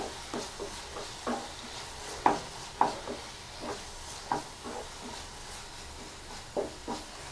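A spoon stirs green pea and tomato curry with coriander powder in a pan, giving soft, irregular scraping and clinking strokes over a low, faint sizzle, each stroke near and fairly quiet.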